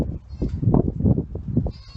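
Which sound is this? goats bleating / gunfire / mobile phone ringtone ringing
goats bleating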